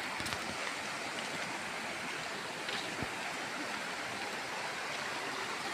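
A muddy, chocolate-colored stream flows beside a hillside house after rain: a steady, dense rush of water that fills the whole clip with no pauses and no speech.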